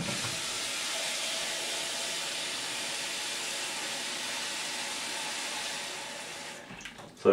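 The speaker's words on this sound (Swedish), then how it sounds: "fyller upp vatten till" Water runs steadily from a tap into a pot of potatoes, a constant rushing hiss that cuts off near the end with a small clunk.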